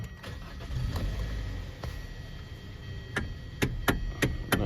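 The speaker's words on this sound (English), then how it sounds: "I got this 2013 Hyundai Sonata, and it's making a weird sound on the steering wheel." A 2013 Hyundai Sonata's steering wheel gives off a weird noise, heard as soft repeated ticking clicks over a low, steady engine rumble inside the car, the clicks growing sharper and more frequent toward the end.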